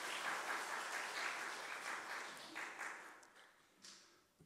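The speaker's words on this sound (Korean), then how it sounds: "하나님께 영광의 박수를 드리겠습니다." Church congregation applauding during a Sunday worship service at Jangan Church, a broad wash of clapping that holds steady and then thins out toward the end.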